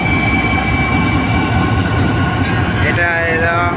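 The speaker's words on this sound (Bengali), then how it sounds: "এটা এলো মালগাড়ি," A long freight train moves slowly along the Bairabi–Sairang railway in Mizoram. Its continuous loud, close rumble and wheel noise carry on throughout, with a brief metallic squeal near the end.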